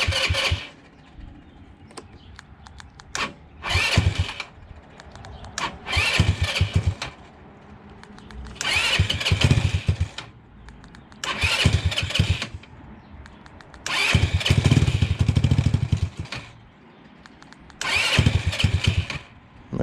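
A GY6 150cc scooter engine is cranked repeatedly, firing in roughly seven separate bursts of starting and brief running, separated by quieter gaps with clicks, close and loud.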